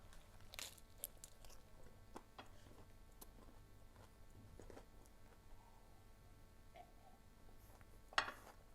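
Biting and chewing the last mouthful of a sauced burger, soft crunchy bites and wet mastication close to the mic, with small ticks and one sharper bite near the end, no talk.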